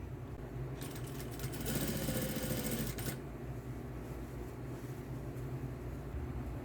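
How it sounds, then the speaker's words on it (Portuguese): A sewing machine stitches around the edge of a fabric toy organizer in a short steady whirring run of about a second and a half, faint against a quiet room hum, with no talking. "Agora eu vou costurar a volta toda da borda do organizador."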